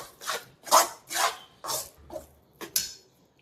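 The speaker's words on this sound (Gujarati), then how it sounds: "હવે આને આપણે હલાવી લઈશું અને 1-2 મિનિટ માટે આપણે ગેસ" A spoon scrapes and stirs a thick Mohanthal gram-flour sweet mixture in a pan over a low gas flame, giving about six rhythmic rasping strokes, close and fairly loud with no talking.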